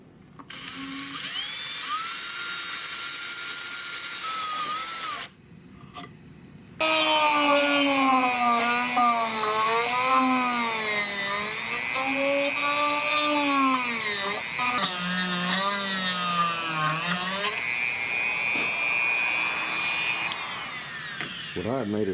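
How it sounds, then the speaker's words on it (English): A Dremel rotary tool grinds out a hole in the metal of an old .410 garden gun during restoration, a close, high whine whose pitch keeps rising and falling as the load changes, with one short pause. "I'll take a Dremel or something and widen that out front to back."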